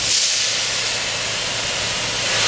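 A hose spray rinses out a plastic trash can, a steady broadband hiss of water that holds at an even level without pause.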